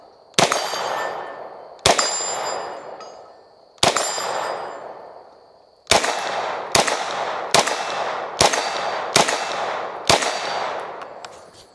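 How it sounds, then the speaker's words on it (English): Stribog SP9A1 pistol-calibre carbine firing close by: three spaced shots, then a steadier run of about seven sharp reports, each with a ringing metallic tail, alone with no talking. "there's 90 rounds through the Stribog SP9A1"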